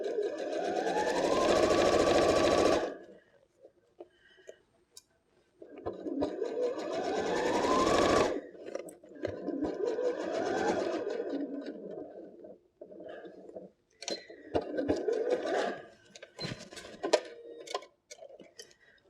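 A sewing machine stitches a seam on a homemade fabric phone case with pockets, running in several close, loud bursts of rapid mechanical chatter separated by short pauses.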